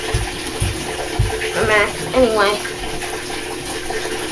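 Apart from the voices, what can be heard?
Amana washing machine filling with water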